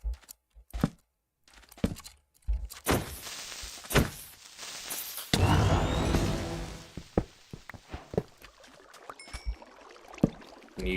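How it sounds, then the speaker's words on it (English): An odd-sounding explosion goes off in a big cave area of a video game: one sudden broad blast with a ringing tail, set among scattered clicks, thuds and knocks. "Unusual sounding explosion."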